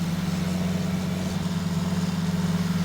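A tractor engine in the video game Farming Simulator 19 runs at a steady, loud idle with a constant low drone and no speech.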